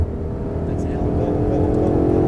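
Ferrari 488 accelerating on the Circuit du Castellet race track, a close, steady engine roar that builds slightly in loudness over a couple of seconds, with muffled talk inside the car.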